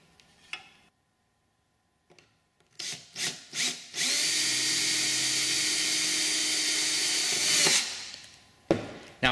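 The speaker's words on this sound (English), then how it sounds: "which I can use with my drill to drill exactly into the locations I want" A power drill whines steadily for several seconds after a few short bursts, drilling holes in an instrument panel, then stops; brief clicks and handling noises come before and after.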